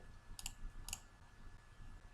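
Two quick double clicks of a mouse on Transform Data in Power Query, crisp and close, against a faint quiet background hum.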